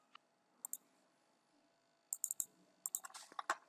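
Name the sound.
typing on a computer keyboard in Excel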